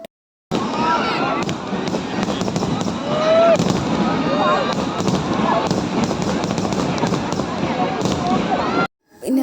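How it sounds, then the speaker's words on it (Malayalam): Fireworks crackle and pop continuously amid a loud, busy outdoor crowd at a church feast in Kerala, bursts overlapping without pause for several seconds. "എല്ലാവരും കാത്തിരുന്ന് വെടിക്കെട്ട് തുടങ്ങിയിരുന്നു"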